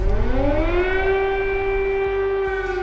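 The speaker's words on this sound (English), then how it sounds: "Air raid sirens have become a daily routine." A loud air raid siren in Kyiv wails steadily, its rising tone holding a sustained pitch throughout, alone without any voices.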